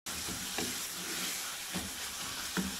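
Mutton mince sizzling steadily in oil in a pan, with green chilli paste mixed in. The frying hiss runs continuously and close, with a few soft stirring scrapes over it.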